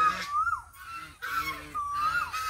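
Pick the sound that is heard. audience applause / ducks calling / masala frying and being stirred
ducks calling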